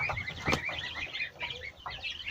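Farm chicks, goslings and ducklings give faint, close, high chirps and peeps in quick irregular bursts over a short moment.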